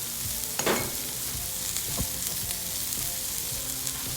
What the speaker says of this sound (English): And on slow heat, let them caramelize.